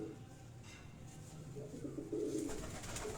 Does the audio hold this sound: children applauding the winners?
no